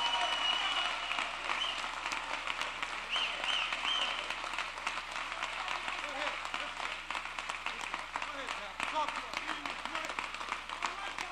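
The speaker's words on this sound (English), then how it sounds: "So keep your applause going for our brother, Pastor Isaac Holt" An audience in a house of worship applauds for a pastor, dense sustained clapping from many people filling the room continuously, with a voice faintly present underneath.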